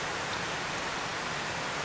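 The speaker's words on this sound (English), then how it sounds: "Rain rain's starting too. We got some trade showers today." Rain begins falling on a garden as light trade showers, a steady, even hiss of drops with no other sounds over it.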